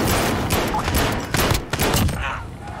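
Gunfire in the video game Call of Duty Warzone crackles as rapid, loud bursts of shots in quick succession, ending in a fading tail, with no speech over it.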